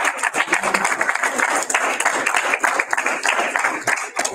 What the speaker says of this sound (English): Really trying to clap together